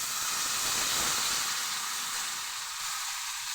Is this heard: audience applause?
no